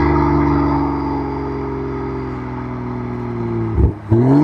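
A BMW M340i with its B58 engine revs with the exhaust valves open, a loud, steady drone whose pitch sags slowly, then dips sharply and climbs again in a brief blip near the end.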